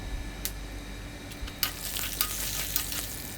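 Urad dal sizzles and fries in hot oil for a Tamil pirandai (adamant creeper) thuvaiyal, with a steady crackling hiss and a few sharp pops and spatters.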